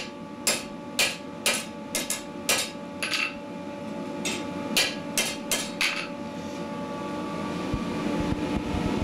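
A knifemaker hammers a hot blade at the forge to give it its slight curve, landing a run of sharp, ringing metallic strikes in uneven bursts over a low workshop hum, then falling quiet.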